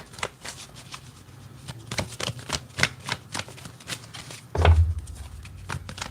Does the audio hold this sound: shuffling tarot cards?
yes